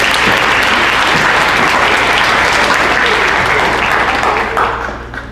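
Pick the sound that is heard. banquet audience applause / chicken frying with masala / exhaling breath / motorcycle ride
banquet audience applause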